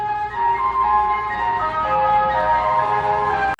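An ice cream truck's tinkly, melodic jingle plays steadily outdoors with a faint motor hum beneath it, fairly loud and continuous for a few seconds.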